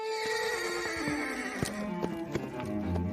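A black stallion with a long braided mane whinnies in a long quavering neigh, with hoof clip-clops and thuds beneath it, fairly close and steady throughout.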